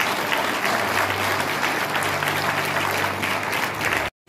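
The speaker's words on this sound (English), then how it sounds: "Let's give God a hand clap for understanding." Church congregation giving loud, sustained hand clapping, a thick continuous roar of applause over a low hum that cuts off abruptly near the end.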